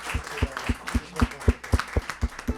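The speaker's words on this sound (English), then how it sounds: "Can we please give both Victor and Susie a round of applause?" Applause from an audience at a Harvard Divinity School and Harvard Law School session on LGBTQ+ rights, a sparse, steady patter of claps in a fairly regular rhythm, close and moderately loud, with no voices over it.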